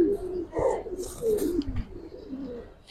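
Giribaz pigeons coo close by in a few rolling, throaty phrases with soft chirps between, no talk over them.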